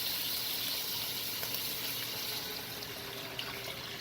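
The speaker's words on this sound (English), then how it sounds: "I'm going to go ahead and add my chicken stock to it" Chicken stock pours into a pot of sausage and peppers for white beans and shrimp, a continuous soft liquid rush with faint sizzling throughout, no talking.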